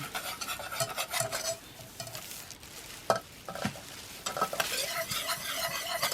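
A whisk or spoon stirs cake batter in a bowl with cornstarch just added: quick repeated scraping and sloshing strokes in bursts, close and fairly quiet, with brief pauses between.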